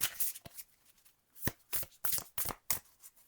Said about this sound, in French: Je reprends des cartes comme ça